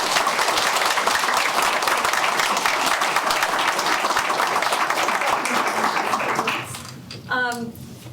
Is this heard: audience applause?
yes